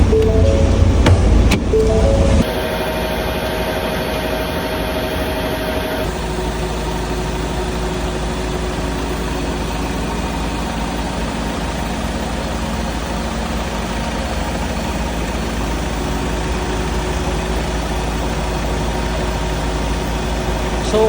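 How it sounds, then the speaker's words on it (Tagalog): A Ford Everest diesel engine idles at a steady, low and even hum with the whir of a motor pump running underneath; an irregular knock or handling noise is heard in the first couple of seconds. "So yung naririnig natin ingay, yan yung pump ng aming motor"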